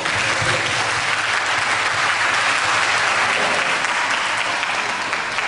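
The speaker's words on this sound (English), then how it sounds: "Give her a round of applause." Sustained, dense applause from an audience at a third grade school show, steady and loud throughout with no talk over it.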